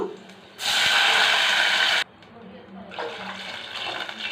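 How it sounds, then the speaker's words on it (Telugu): Water poured from a glass onto raw rice in a cooking pot while making jeera rice at home, a loud splashing gush for about a second and a half, then softer trickling. "వాటర్ పోసుకుందాం మనము"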